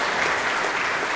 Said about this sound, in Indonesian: Dan beri tepuk tangan sekali lagi Bapak Ibu